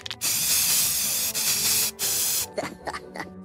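Three long bursts of aerosol spray hiss from a paint can, separated by short pauses, followed by a few quieter rattling clicks at the end, in a Simpsons cartoon.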